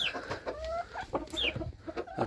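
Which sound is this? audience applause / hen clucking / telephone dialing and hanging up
hen clucking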